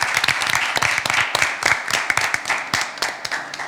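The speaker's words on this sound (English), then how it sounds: "Please give them a round of applause." Audience at a secondary school debate competition clapping for the participating schools, a lively, fairly close burst of many hands with distinct individual claps standing out throughout.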